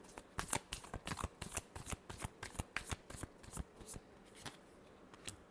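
Tarot cards being shuffled in repeated quick riffles and flutters, a steady run of crisp papery bursts close by with no talking.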